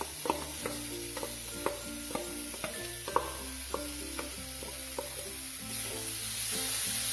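Boiled, squeezed banana flower being stirred in a frying pan with softened green chilli, a soft sizzle under repeated scraping and tapping of the spatula against the pan at a fairly steady pace, close and quiet.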